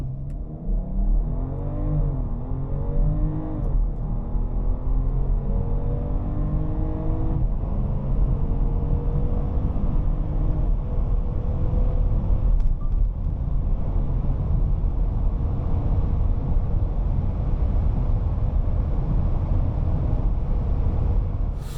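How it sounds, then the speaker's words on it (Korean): A 2024 BMW X5 xDrive40i facelift SUV accelerates hard toward 200 km/h, its engine note climbing through gear changes and settling into a sustained loud drone with heavy wind and road roar, continuous and close. "X5 40i 이와 같은 힘으로 시속 200km까지 밀어붙였을 때는 어떤지 볼까요?"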